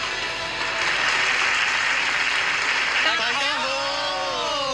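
Audience at the TDM (Macau) 41st anniversary variety gala applauds in a dense, steady wash of clapping. A tonal musical or sung line rises over it near the end.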